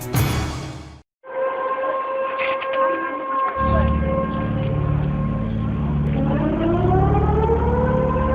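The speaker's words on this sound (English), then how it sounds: "These are the sounds of a tsunami warning." Tsunami warning sirens wail loudly in a steady, sustained tone, with a low droning layer joining partway through and pitch sweeping upward near the end, far-carrying and continuous outdoors.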